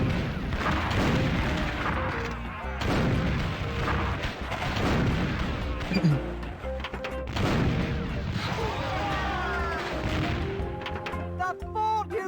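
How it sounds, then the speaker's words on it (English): Rapid booming cannon fire from a semi-automatic cannon in the pirate game Curse of Monkey Island, dense repeated blasts and crashes running nearly continuously over a busy, loud game soundscape. "I like that this is like a semi-automatic cannon"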